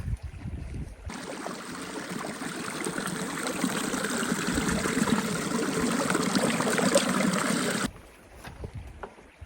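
Creek water trickling and splashing as a pot is dipped into the stream, a close, loud, steady rushing that starts abruptly and cuts off sharply near the end, leaving quiet outdoor ambience.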